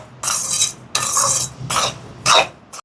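Semolina roasting with crushed cardamom in a pan, stirred with a spoon in four separate scraping strokes with brief pauses between them. Each stroke is close and clear, with only faint background sound.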